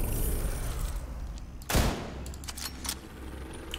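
A single loud sniper rifle shot in a video game cracks out midway over a low background rumble, followed by a few fainter clicks and knocks.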